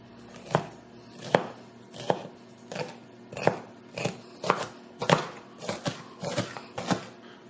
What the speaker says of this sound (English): So I'm going to slice up some green pepper.